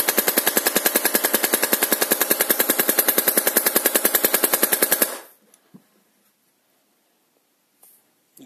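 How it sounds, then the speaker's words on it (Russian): Airsoft gun with an "Elektronika" solenoid system firing one long rapid burst of evenly spaced sharp shots for about five seconds, then stopping abruptly, followed by a few faint clicks and near silence. "на вот такой примерной интенсивности стрельбы нагрева соленоида особо"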